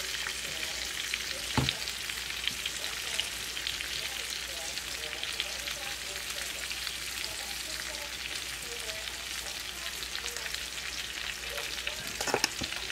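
Asparagus sautés in a pan as part of a dish with potatoes, giving a continuous crackling sizzle with a couple of sharp knocks of a utensil against the pan, and no voices.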